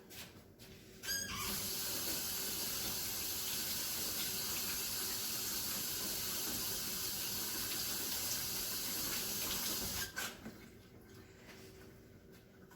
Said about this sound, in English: All right, let me wash my hands off.